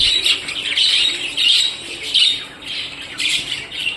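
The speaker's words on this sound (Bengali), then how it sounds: "এটা হলো অ্যালবিনো বদ্রি পাখি" An albino budgerigar in a cage gives repeated shrill chirps and squawks in quick bursts, close and lively, with short gaps between calls.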